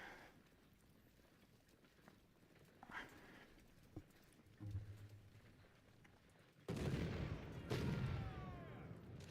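Cannon fire in the Civil War strategy game Ultimate General: Civil War, with scattered distant booms and pops over a quiet battlefield ambience, ending in a louder sustained rumbling burst.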